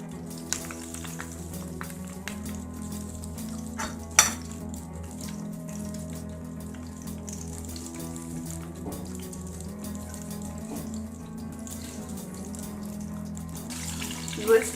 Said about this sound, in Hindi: मैंने इसमें जो है वो ऑयल डाल दिया और इसको हम लोग शैलो फ्राई करेंगे